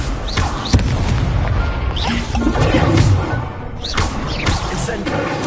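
The Incendio fire spell is cast in Hogwarts Legacy, a loud sustained roaring whoosh of flame with booming bursts that runs through the whole clip, no speech over it.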